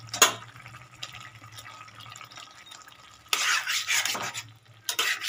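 Spinach paneer with ghee stirred gently in a pan on a gas stove, giving soft scraping and wet, dripping sounds, with a brief clatter early on and louder bursts of stirring toward the end.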